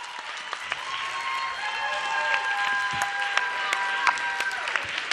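A concert crowd applauds a Bulgarian singer, producing sustained, even clapping from many hands with sharp individual claps poking through and soft held musical tones running underneath.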